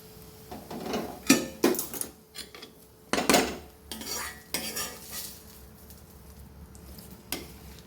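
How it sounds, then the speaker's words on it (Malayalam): Thoran being mixed after a mustard-seed tempering is poured in, with a spoon clanking and scraping against a metal vessel in irregular bursts, some faint sizzle between strokes and quiet pauses, no speech. "കടുക് താളിച്ചൊഴിച്ച് എല്ലാം മിക്സ് ചെയ്ത് വെച്ചിട്ടുണ്ട്."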